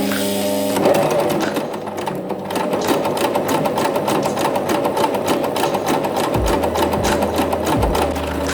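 Sewing machine stitching a ruffle to gather it for a doll's dress, with a loud, rapid, steady mechanical stitching rhythm throughout and a couple of brief low motor slowdowns near the end.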